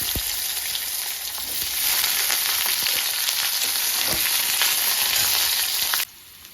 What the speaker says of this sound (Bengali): কেটে রাখা কুমড়োগুলো এর মধ্যে দিয়ে দেবো দিয়ে ভালো করে নেড়ে ভেজে নেবো